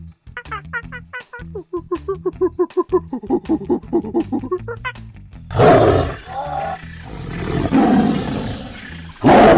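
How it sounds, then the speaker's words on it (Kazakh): A tiger lets out deep, rough, loud roars in several bursts, following a run of rapid, rhythmic pulsed animal calls. "Жолбарыс."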